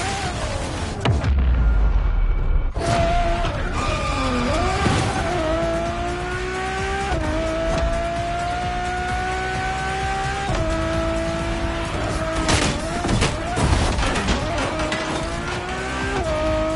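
A Ferrari road-legal Formula One car in The Crew Motorfest drives hard, its loud, close engine climbing in pitch through repeated gear sweeps with brief tire squeal, continuous throughout and without talk.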